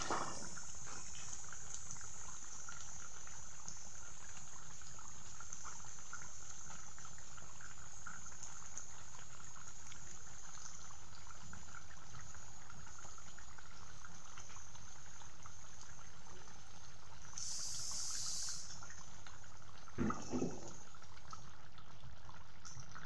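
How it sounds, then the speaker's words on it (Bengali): Chicken curry simmering in a pot at home, a quiet, continuous bubbling and low gurgle heard up close, with a brief clatter near the end and no speech. "কিছুক্ষণ সিদ্ধ হোক"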